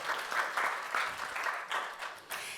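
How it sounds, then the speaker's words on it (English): Audience applause at a 2019 college pitch competition as a contestant finishes, a steady wash of many hands clapping at moderate volume for a couple of seconds. "Let's give him a round of applause."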